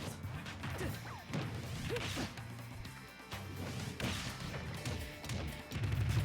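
Explosion effects in the fighting game Super Smash Bros. Ultimate, heard as several loud smashing bursts and thuds amid busy game music and whooshing hits, with one heavy boom near the end.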